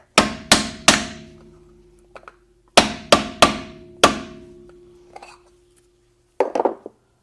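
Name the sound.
hammering Mercedes-Benz wheel bearing dust cap into place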